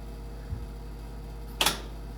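Whirlpool front-load washer door lock engaging for a drain and spin cycle: a faint soft bump, then a single short, sharp click-clack close by over a steady low hum.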